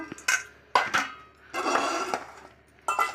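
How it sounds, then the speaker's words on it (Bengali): Palm fruit seeds are squeezed and mashed by hand in a bowl to make palm fritters, giving soft squelches and several light clinks against the bowl in short, quiet bursts. "এবার আমি আটিগুলোকে চটকিয়ে নেব"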